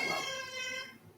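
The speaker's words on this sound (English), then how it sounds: "Y'all see my cat." A house cat gives one drawn-out, close meow that slides downward and fades after about a second, heard on its own.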